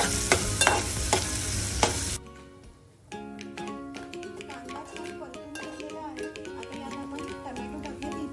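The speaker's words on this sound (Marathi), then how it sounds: "कांदा छान परतून घ्यायचा आहे आणि पूर्ण सॉफ्ट झाला पाहिजे" Finely chopped onion, two medium onions, sautéed in a pan until soft, with a loud sizzle and stirring at first, then quieter frying with clicks and light scraping over background music.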